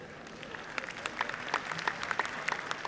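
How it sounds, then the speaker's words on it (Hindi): An audience at a Kolkata kavi sammelan (Hindi poetry gathering) claps steadily throughout, a dense patter of many hands at moderate distance with no voices over it. "देखिए क्या ताली बजा रहे हैं"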